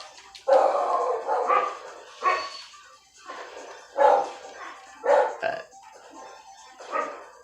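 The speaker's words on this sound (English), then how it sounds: "And there's the dog barking." A dog barks in a video game, several short yapping barks spaced irregularly over a few seconds, moderately loud with no talk over them.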